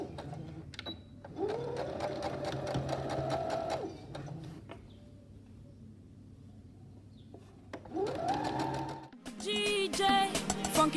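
A sewing machine stitches around the lining of a baby dress in two steady bursts of whirring, separated by a quiet pause, then a different busy sound takes over near the end.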